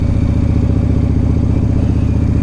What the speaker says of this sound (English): Killer sound of that ginormous V-twin, 113 cubic inch.